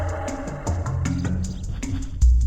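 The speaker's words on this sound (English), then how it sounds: "that was the sound of this guy respawning" Turok game sound effects and music play together as an enemy respawns: stepping synth tones with short percussive ticks, ending in a sudden heavier low burst.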